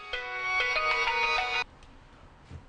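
A telephone rings indoors with a bright electronic melodic ringtone for about a second and a half, then cuts off abruptly, leaving quiet room tone with a faint thump afterward.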